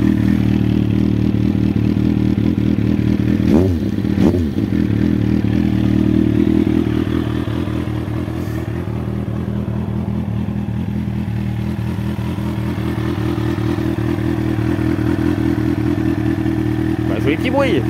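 A Kawasaki motorcycle that has not been ridden in a while, with a somewhat weak battery, idles close by in a steady, even drone. It blips twice early on, and then the idle settles slightly quieter.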